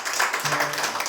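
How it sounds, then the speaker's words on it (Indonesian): A church congregation applauds during a Pentecostal worship service in Indonesia, a dense, steady wash of many hands clapping at close range, with faint voices mixed in beneath the applause. "Tepuk tangan buat Tuhan."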